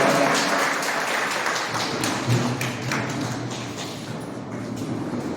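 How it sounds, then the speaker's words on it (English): Audience at a CBSE in-house teacher training session applauding as a resource person is welcomed to the stage, a steady wash of hand claps and taps that holds moderately loud throughout without fading. "Please welcome our very round of applause."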